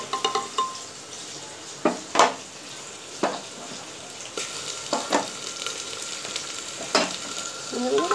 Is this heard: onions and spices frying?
yes